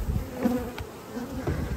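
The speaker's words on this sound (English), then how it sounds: "A lot of bees." Honey bees hum steadily around hives during a honey harvest, a dense close-up drone of many insects with no one talking.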